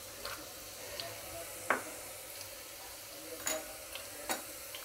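Onions and fox nuts (makhana) fry in a pan, a faint steady sizzle broken by a few sharp ticks and scrapes of stirring, close but quiet with no talk.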